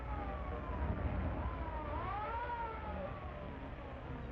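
A police car siren from a classic movie wails faintly in one long rising and falling sweep behind steady hissing film-soundtrack noise, with no talking.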